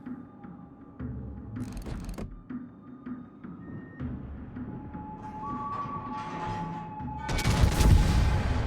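Shell fire from the battleship Massachusetts, loaded with HE rounds, in a naval video game: scattered booms and a sharp burst early on, then a heavy, loud salvo rumbling near the end.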